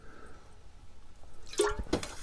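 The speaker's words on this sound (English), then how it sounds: "Go back with a little water." Water splashes over a rusty cast iron pan being rinsed after salt scrubbing, a couple of close wet splashes and drips following a quiet stretch.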